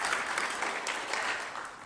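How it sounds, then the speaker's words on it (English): An audience at a credit union gift announcement claps in a small, steady round of applause, dense and moderately near, fading slightly toward the end. "can we get a small round of applause for these folks?"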